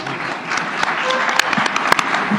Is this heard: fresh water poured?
no